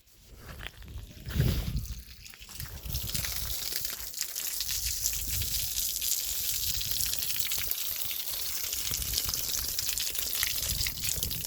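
Water sprays steadily across a farm field, a continuous hissing rush that carries on for many seconds after a few rustling bumps at the start.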